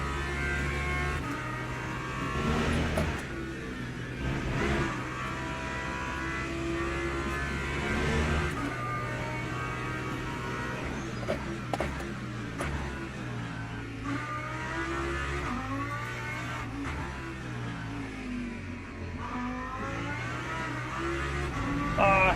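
A race car engine drones and revs through gear changes around a wet Silverstone in Le Mans Ultimate, a continuous loud engine note rising and falling with no talking.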